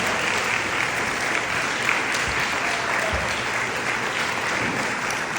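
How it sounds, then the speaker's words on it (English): A crowd at the Iowa Democratic Wing Ding political event gives volunteers a round of applause, dense continuous clapping filling the hall at an even level throughout. "please give these people a round of applause"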